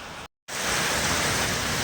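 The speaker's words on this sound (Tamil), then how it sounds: "மழை சரியான மழை வந்துட்டுருக்கு" Heavy rain pouring down in Coimbatore, a steady dense broadband hiss that cuts out briefly near the start and then resumes loud and unbroken to the end.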